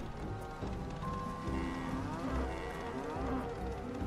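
Cattle mooing within a hidden object video game, a drawn-out low bovine call over a steady dense bed of game music and ambience, at moderate level with no talk.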